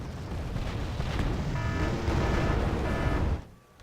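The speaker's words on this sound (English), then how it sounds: "So dropping lots of bombs still" Heavy bomb explosions in the Cold War strategy game Wargame: AirLand Battle, a loud continuous rumbling blast with crackling debris that holds steady for over three seconds, then cuts off abruptly into a quieter tail.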